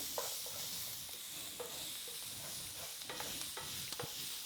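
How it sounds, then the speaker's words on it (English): Garlic being stirred into vegetables sizzling in olive oil in a pan, with a constant close frying hiss and intermittent scraping taps of the utensil. "And so I will go ahead and add the garlic with that. Get that stirred in there really good."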